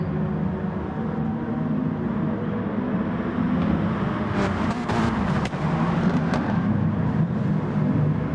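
Race cars lap Brands Hatch in GT Sport, three abreast into an early corner. Several engines drone together in a steady, close roar, with a few brief sharper rasps partway through.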